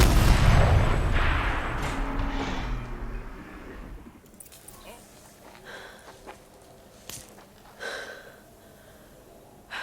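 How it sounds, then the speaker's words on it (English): Turret fire in Horizon Zero Dawn Remastered: a loud, heavy blast opens with a booming rumble that fades over several seconds, followed by scattered faint impacts and clanks. "Rotate turret! And fire!"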